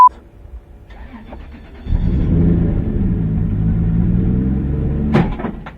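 A race car with a troublesome clutch cranks and catches at a Red Bull event in Belfast, its engine settling into a steady low rumble for several seconds before a brief sharper burst near the end.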